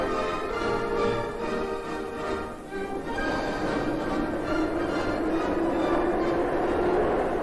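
A Kyiv metro train, filmed in 1959–1960, rumbles and screeches steadily as it moves through a station, a continuous loud metallic roar with rising whine.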